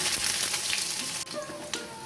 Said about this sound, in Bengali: আমি কিছুটা রসুন কুচি দিচ্ছি।